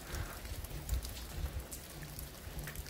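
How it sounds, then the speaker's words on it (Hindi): Steady evening rain falls in the hills, a soft continuous patter on surfaces heard alone at low level with no talk. "और अभी शाम के वक्त फिर बारिश आ गई है।"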